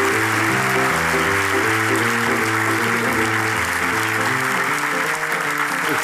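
A studio audience at a Turkish TV comedy show applauds steadily and loudly throughout, dense clapping under a bright backing music bed that holds for the whole stretch.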